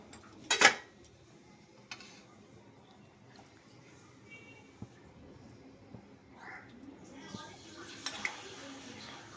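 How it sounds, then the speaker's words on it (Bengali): A metal spatula clatters and scrapes in a pan as pabda fish are pushed down into spicy mustard-oil gravy with brinjal, with a sharp clank near the start and softer scrapes after. "তো সমস্ত মাছগুলো দিয়ে খুন্তির সাহায্যে একটু ঝোলের মধ্যে ডুবিয়ে দেবো"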